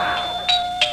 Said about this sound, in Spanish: ¿Fue el timbre de la puerta?